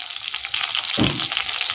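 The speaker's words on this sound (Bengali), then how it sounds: "এবার আদা, কাঁচা লঙ্কা আর টমেটোটাকে ভালো করে ভেজে নেব" Ginger, green chilli and tomato sizzle steadily in a hot pan, a continuous bright frying hiss, with a brief soft stir or clatter about midway through.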